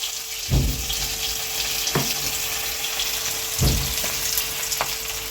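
Garlic cloves and onion fry in leftover oil from frying fish, giving a loud, continuous sizzle with a few louder spatters and stirring knocks, no talk.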